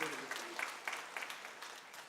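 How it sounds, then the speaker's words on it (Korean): A church congregation applauds a newly baptized couple during a Sunday worship service, with steady, fairly faint clapping lasting a couple of seconds. "성도님들의 축하의 박수를 부탁합니다."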